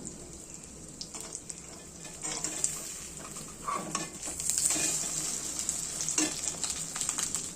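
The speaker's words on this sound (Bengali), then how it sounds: "এটাকে এবার ঢাকা দিয়ে দেবো আর কম আঁচে কিছুক্ষণের জন্য ভেজে নেব" A fish roe dhoka cake fries gently on low heat, giving a soft, uneven sizzle. Intermittent utensil scrapes and taps from turning it rise and fall without any talking.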